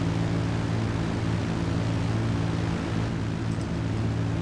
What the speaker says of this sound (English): See the helicopter straight ahead?